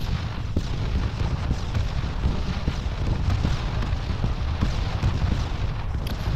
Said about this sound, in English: Second rounds of artillery should be arriving.